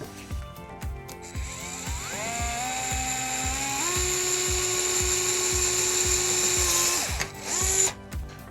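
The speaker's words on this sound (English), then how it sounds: "So I'm gonna drill right through there." A power drill bores through a plastic toy handle on a Mickey's Toontown bubble blower, its motor whining steadily and close, with the pitch stepping up as it runs, then cutting off with a few clicks at the end.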